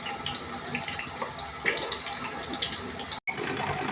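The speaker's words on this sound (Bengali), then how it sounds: "তেলটা গরম হয়ে গেছে, আলু দিয়ে দিব।" Potatoes frying in hot oil, a dense, steady crackling sizzle heard close up, broken by a brief cut near the end, with no talking.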